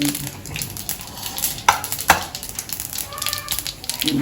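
Vada frying in hot oil in a home kitchen, a steady soft sizzle with a few sharp clinks of a utensil against the pan partway through.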